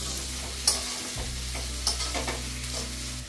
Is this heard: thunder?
no